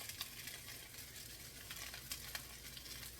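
Soy sauce hitting rice frying in a hot pan, a steady bright sizzle with light crackles throughout, fairly quiet and with no talking.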